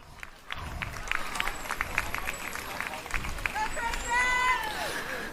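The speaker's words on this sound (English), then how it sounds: "Give her a round of applause, everyone." Spectators at a USA BMX national race applaud a rider at the track, a crowd's clapping and cheering under a busy mix of voices, outdoor noise and whistle-like tones.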